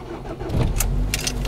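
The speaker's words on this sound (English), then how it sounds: "car starts." A car engine cranks and starts on a cold, icy day, a close churning turnover that catches into a steady idle with a few short clicks.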